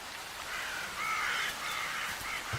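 Ravens cawing at a carcass on northern tundra in polar summer, a few harsh repeated caws at moderate distance over quiet open air, with no other sounds.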